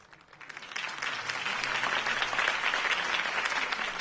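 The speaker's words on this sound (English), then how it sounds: "could have heard that applause" Crowd applause after a campaign speech in a Batman video game, a dense wash of clapping that swells within the first second and holds steady and loud to the end, with no voices over it.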